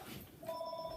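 A home telephone starts ringing with a steady electronic tone partway through, faint under low room noise.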